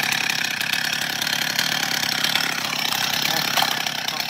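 A German-made Stihl 021c chainsaw running: a loud, continuous high buzzing whine with a steady rapid chain rattle, close and unbroken, with no talking.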